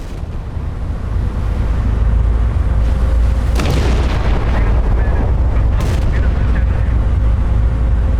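A battleship's big gun fires in the naval game Battleship Command, a heavy boom over a constant loud low rumble, followed later by another sharp report.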